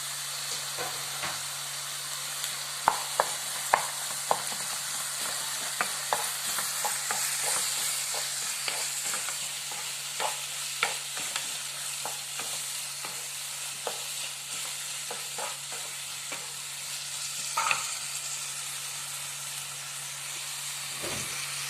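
Two ripe chopped tomatoes sauté in a pan, a steady close sizzle broken by repeated sharp scrapes and taps of a spoon stirring at an uneven rhythm.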